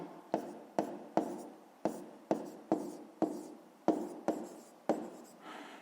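Numbers being written by hand for a fifth-grade math exercise: a series of about a dozen quick, crisp pen strokes on paper, evenly spaced and close, with no talk over them.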